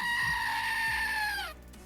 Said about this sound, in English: It is a screaming goat